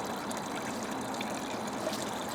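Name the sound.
water running over a 1/50 scale model dam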